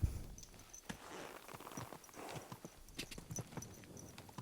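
Horse hooves clip-clopping in the medieval video game Kingdom Come: Deliverance 2, a quick, regular walking rhythm of soft thuds, faint and close, with no talk over it.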